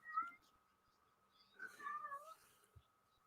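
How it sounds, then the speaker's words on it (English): A cat meows a few times at a distance, first briefly and then in a longer, wavering call, faint over quiet background with a soft thump near the end. "As the cat meows, and there it is right there."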